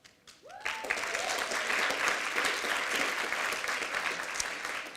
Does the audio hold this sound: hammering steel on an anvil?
no